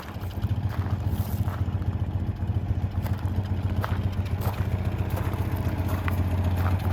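A 1981 Citroën 2CV6 Charleston's small engine idles with a steady low throbbing putter, close and continuous, with no talking.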